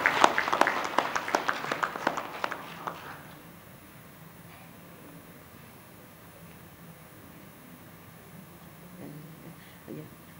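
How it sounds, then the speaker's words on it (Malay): Applause for an honoured guest at a university college chancellor proclamation ceremony: a brief burst of clapping for about three seconds that quickly dies away, leaving a quiet hall with faint background noise. "Kita bagikan satu tepukan kepada beliau."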